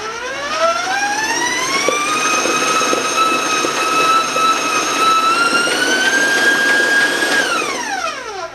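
An electric mixer beats chocolate half sheet cake batter at high speed, its whine climbing steeply in pitch, holding a loud steady tone for several seconds, then winding down as the speed drops.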